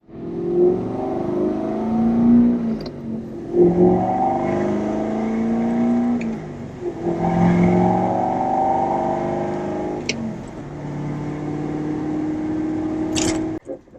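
A 2014 Corvette Z51 engine revs hard through several pulls, the pitch rising then dropping sharply at each gear shift, loud and close, with a brief mechanical click near the end and no talk.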